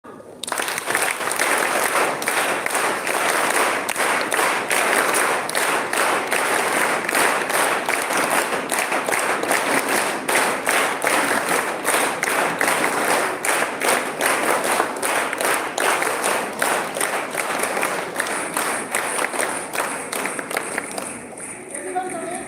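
A large group claps in a fast, steady, rhythmic unison pattern at a live gathering, loud and continuous, slowing and fading near the end.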